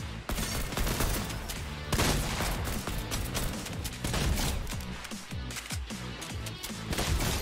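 Rapid, dense gunfire from a Fortnite match, loud and continuous, with sharp shots layered over bursts of heavier automatic fire and no talk.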